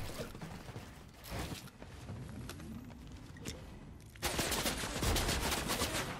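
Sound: gunfire and sniper shots in the video game Fortnite

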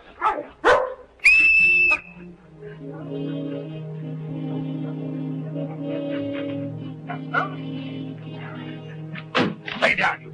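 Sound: dogs barking

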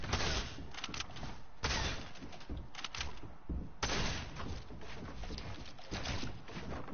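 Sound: hunting rifle gunshots in a video game

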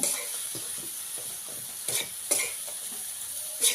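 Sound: coconut and jaggery being stirred and roasted in a pan

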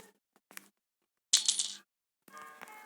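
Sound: key thrown and dropping in the video game Granny

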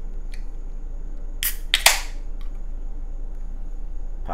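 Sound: opening a bottle of wheat ale

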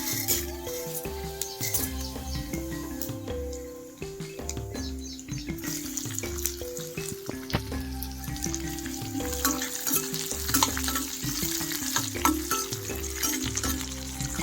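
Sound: chana dal, urad dal, cumin and garlic frying

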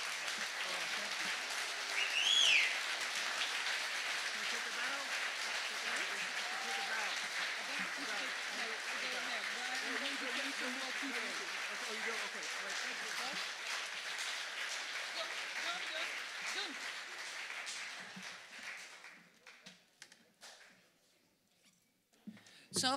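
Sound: audience applause at a live concert

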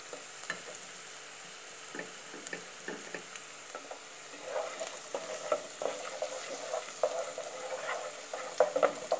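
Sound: minced garlic sautéing in olive oil

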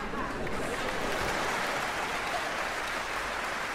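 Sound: audience applause

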